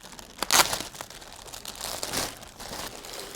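Packaging for a Velodyne DB10 subwoofer crinkles and rustles during an unboxing, with a sharp close crunch early on followed by softer intermittent crackling and handling noises.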